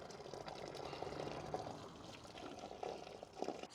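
Hot water splashes and gurgles as it is poured into a blocked kitchen drain gully, a quiet, continuous rushing pour with small irregular bursts of splashing.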